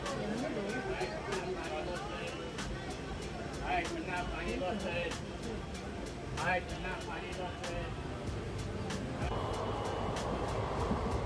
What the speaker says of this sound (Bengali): এখন আমরা প্রান্তিক স্টেশন ছেড়ে বেরিয়ে গেছি